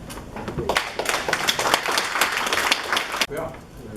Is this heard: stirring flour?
no